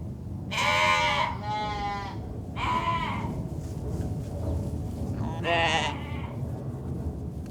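Three loud sheep bleats, wavering and nasal, come close by over a steady background rumble, spaced a couple of seconds apart.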